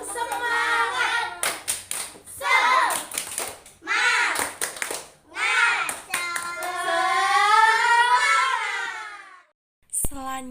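Classroom children join in a rhythmic 'spirit clap', sharp bursts of unison clapping that alternate with a teacher's voice and children chanting along, all close and loud in a small room.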